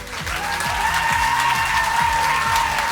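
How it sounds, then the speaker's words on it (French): A concert audience at a June 2023 community wind band performance applauds the flute section, a steady wash of clapping with a sustained tone and low musical sweeps running beneath it. "on les applaudit"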